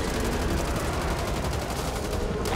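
Rapid automatic gunfire from the zombie shooter Back 4 Blood, a dense unbroken burst of loud shots filling the whole moment with no pause.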